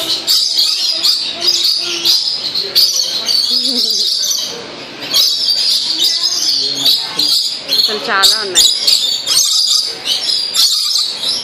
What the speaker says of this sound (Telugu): ప్యారెట్స్ అన్నిటికంటే గట్టిగా వస్తున్నాయి.